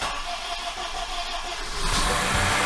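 Honda CR-V fourth-generation engine, freshly replaced, cranking and catching to run, a loud, steady mechanical drone close by that swells and thickens near the end as it settles into running, with no talk.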